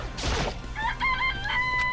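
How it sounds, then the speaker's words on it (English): Chickens in the video game Danganronpa: a short burst of clucking followed by a clear rooster crow, close and loud, with no talking. "This place has chicken, even has chickens, huh?"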